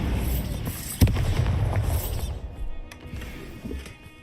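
A Bombarda blast spell goes off in a Harry Potter–style spell-casting game, a sharp booming burst near the one-second mark followed by a rumbling, crackling decay that fades out.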